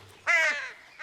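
Cartoon crows caw in a single harsh, nasal call lasting about half a second, loud and close, with a brief second caw starting at the end.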